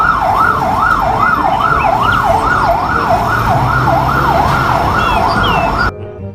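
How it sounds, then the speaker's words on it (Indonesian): A loud electronic toy fire truck siren wails in a steady rising-and-falling pattern, cutting off abruptly near the end. "wah, kita mendapatkan mobil pemadam kebakaran."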